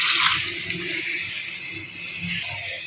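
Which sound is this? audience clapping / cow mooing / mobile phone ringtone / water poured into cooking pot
water poured into cooking pot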